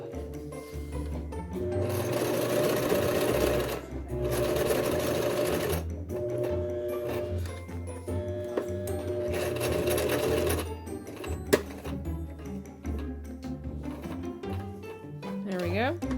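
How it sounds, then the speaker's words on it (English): A sewing machine stitches fabric for a bat wrap in rapid mechanical bursts, running in several long stretches separated by short pauses, with some fabric handling noises in between. "If you have to pause and you're sewing, always make sure the needle is in the fabric when you pause."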